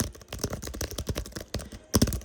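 Fast, steady typing on a Logitech MX Keys for Mac keyboard, with dense close-up key clicks and a heavier keystroke near the end.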